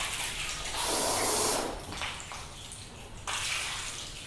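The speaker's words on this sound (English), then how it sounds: "just spray some water on" A steady hiss of water spraying onto a car's paint in bursts, with a loud rush in the middle and another burst near the end, close by.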